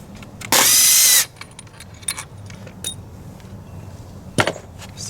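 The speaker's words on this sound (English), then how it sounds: "Take this bolt out." A bolt on a Polaris 330 Trailboss ATV is removed with hand tools: a loud, close burst of harsh metallic whirring, then scattered clinks and knocks of tools against metal.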